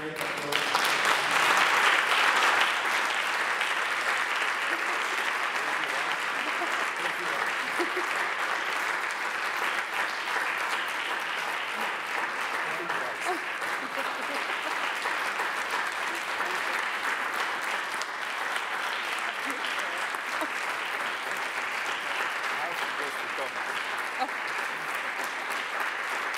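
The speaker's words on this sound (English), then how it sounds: "Please join me in a great applause." A lecture audience gives sustained applause after a spinal cord repair talk, dense even clapping that holds steady for nearly half a minute, slightly louder at the very start.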